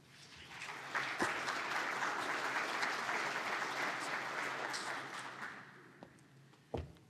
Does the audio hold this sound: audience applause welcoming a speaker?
yes